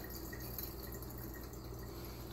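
Water from a tap runs in a sink while an espresso machine portafilter is rinsed, a quiet, steady trickle and splash with faint drips and no voices.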